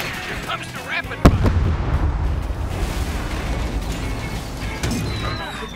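Rapid-fire weapon shots in the racing game Cars 3: Driven to Win, a steady crackling barrage with one sharp blast near the start, mixed with engine and game noise.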